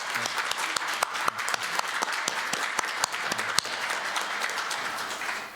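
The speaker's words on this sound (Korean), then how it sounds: "총장님께 축하 박수 한번 보내드리십시오." An audience at a university ceremony applauds the university president with a sustained, dense clapping that stays steady and full throughout, sounding like a sizable crowd in a hall.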